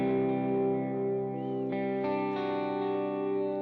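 An electric guitar through a delay effect in Bias FX 2 Mobile, with sustained chords smeared into a wide, washy, reverb-like tail of repeats, ringing out smoothly and without any talking.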